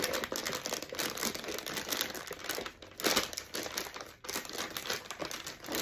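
A plastic piping bag crinkles steadily while it is pushed into a holder, close and continuous with small rustling variations.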